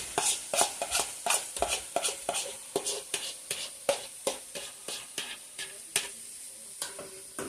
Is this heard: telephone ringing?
no